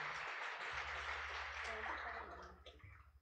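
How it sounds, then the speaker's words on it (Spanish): A church congregation claps loudly for the Lord during a Sunday morning worship service, a dense, sustained wash of applause filling the room and tapering off near the end, with a low musical hum beneath. "Dale fuerte ese aplauso al Señor en esa mañana."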